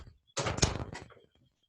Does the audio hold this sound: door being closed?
yes